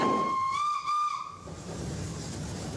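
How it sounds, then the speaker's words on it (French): Shrill steam whistle from a 90-year-old steam locomotive sounds for about a second and a half with hissing steam, then fades into the low rumble of the train. "Ici, nous avons le sifflet, regardez."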